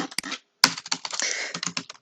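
Fingers type on a computer keyboard, a quick close run of crisp key clicks with a short pause before a final burst of taps.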